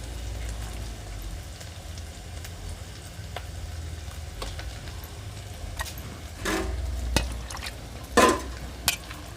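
Onions sauté in a pan for a lake fish curry with a soft continuous sizzle, then a few louder clacks and scrapes toward the end as they are stirred.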